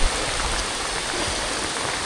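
Rain falls outdoors on an island during fishing, a dense steady hiss of drops pattering on surfaces, loud and unbroken from start to end.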